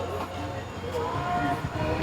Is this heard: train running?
yes